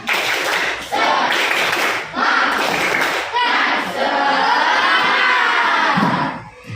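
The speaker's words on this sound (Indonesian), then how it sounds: "Tepuk semangat." Schoolchildren performing a tepuk semangat spirit clap in a classroom, rhythmic bursts of clapping in timed groups broken by short pauses, with the children chanting and shouting along.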